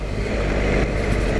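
A Triumph Explorer adventure motorcycle engine runs steadily on an off-road trail, a loud, close, continuous mid-range drone with no break or talk.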